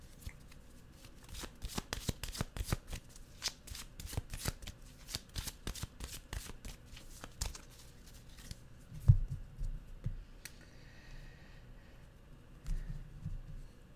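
A deck of animal oracle cards being shuffled close up, with a rapid flurry of riffling card snaps early on that slows into sparser flicks and soft handling, quiet and without talk.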